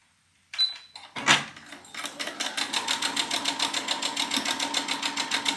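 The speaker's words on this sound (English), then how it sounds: "I'm going to start to sew right here on my handy dandy machine." A sewing machine stitches quilt rows along a quarter-inch seam, starting with a few handling clunks before settling into a fast, even, rhythmic run that continues up close and alone.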